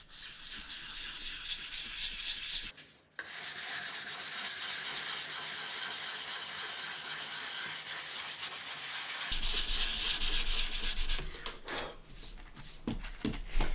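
Sandpaper rubbing lacquer off a wooden guitar neck, a close, steady scratchy friction with a brief pause near three seconds and choppier, more broken strokes toward the end.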